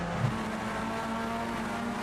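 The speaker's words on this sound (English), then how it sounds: "Engines revving" Race car engines from the iRacing sim at Laguna Seca hold a steady high-pitched drone, a sustained buzzing tone with no voices over it.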